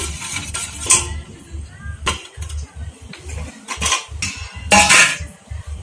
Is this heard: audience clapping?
no